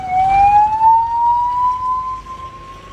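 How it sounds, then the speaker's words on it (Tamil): An ambulance siren wails loud and close as it passes on the road, a single rising tone that stretches steadily over a low traffic rumble. "பாருங்க ஆம்புலன்ஸ் இப்பதான் போகுது"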